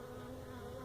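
A short, faint burst of steady droning from irritated loose bees left in a big hive inside an apartment floor, an unbroken hum with no voices.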